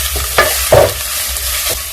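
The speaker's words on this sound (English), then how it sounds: "then I'm going to go in with my shredded butternut. Mix it up." Shredded butternut squash and ginger stirred in a pot over heat, a few quick scraping strokes over a light sizzle, close and fairly loud, with no talking.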